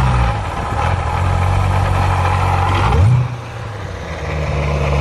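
A Corvette Z06 V8 rated at 650 hp, heard up close as a steady deep idle that swells into a short rev, then drops back and settles into a lower, rumbling idle.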